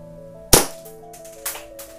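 A WE M92 gas airsoft pistol fires two sharp, close shots about a second apart, each a snappy pop with a short tail, the first louder and the second weaker, followed by a faint click.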